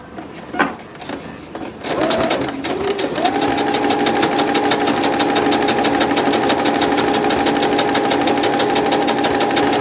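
Sewing machine stitching a cloth grocery bag, starting after a few clunks and then running in a fast, steady mechanical whir with rapid needle ticking, close and loud for most of the stretch, no talk.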